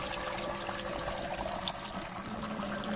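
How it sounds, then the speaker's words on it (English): Steady rushing strike water pours continuously into a home-brewing kettle, about 8 gallons, a dense even gush with no pauses. "Put my initial strike water in the kettle at 8 gallons"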